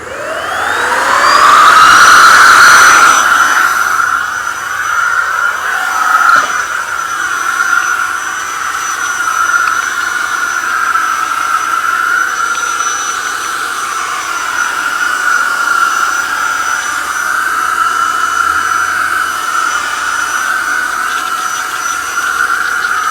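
A Mellif 20V cordless air duster spins up with a rising whine, then blows a steady, loud, high-pitched jet of air, close and continuous with no voices.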